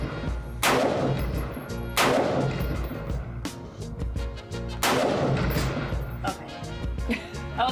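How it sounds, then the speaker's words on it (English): Loud gunshots at an outdoor shooting range, several sharp booming reports spaced a second or more apart with ringing decay, firing at a target, with people talking between shots. "Can I shoot as much as I want?"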